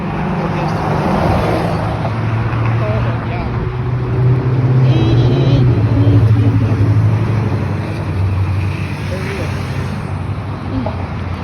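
Steady roar of road traffic passing outdoors in the Texas heat, a continuous loud rumble under a person talking.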